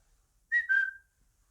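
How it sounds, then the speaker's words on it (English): A short two-note whistle, clear and close, rising then settling on a held tone, alone in silence. "he heard somebody whistling behind one of the closed doors"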